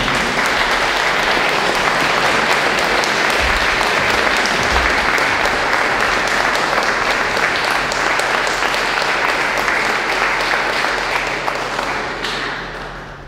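A concert hall audience applauds a performer at a vocal music concert, a dense, steady wash of many hands clapping at full strength for about twelve seconds before trailing off.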